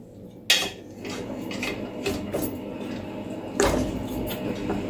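A spoon stirs skinned sheep's-head stew in a pressure cooker pot, with steady close scraping and clinking against the metal and two sharper clanks standing out.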